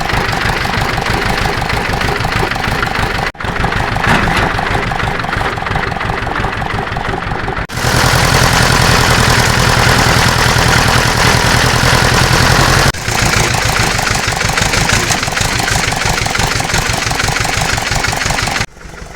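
Vehicle engine driving through a cleared, replanted pine forest, a loud continuous mid-to-low drone with steady rhythmic pulsing and a few abrupt shifts in tone, no talk over it.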